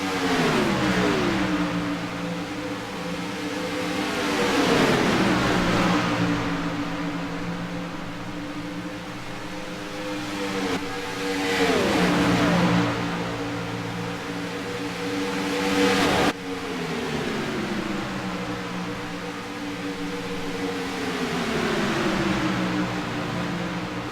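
Race cars racing on a track, engines rising and falling in repeated drawn-out passes, loud and continuous with a whining, revving pitch that sweeps as each pack goes by.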